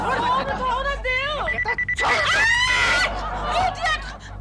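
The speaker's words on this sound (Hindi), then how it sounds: "फोन उठाओ ना" A telephone rings at night in a home, its repeating electronic tone running under loud, agitated talk and shouting from several voices.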